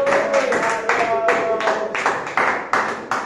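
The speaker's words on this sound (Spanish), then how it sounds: "Denle fuertes palmas a Cristo, hermano." Church congregation clapping hard in praise during a Spanish-language service, a run of loud rhythmic handclap bursts with voices and singing mixed through it.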